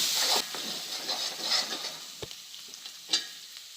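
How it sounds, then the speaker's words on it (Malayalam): Beaten egg sizzles in a hot pan for an egg and green gram stir-fry, a brisk frying hiss with quick scraping stirs that fades to sparse crackles and a few sharp utensil knocks. "ഇളക്കി കൊടുക്കാം"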